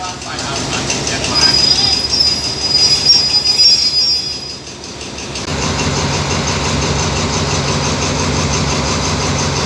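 A passenger train rolls into Ban Phachi Junction station in Thailand with loud, steady rumbling and sharp high-pitched wheel squeal, a voice speaking briefly over the noise.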